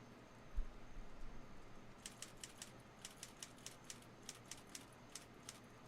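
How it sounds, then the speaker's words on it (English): Faint, evenly spaced typewriter keystrokes tap away in the background of a cabin in the Friday the 13th game, about a dozen quiet clicks in a steady rhythm after a brief low thump. "You can hear a typewriter writing in the background there"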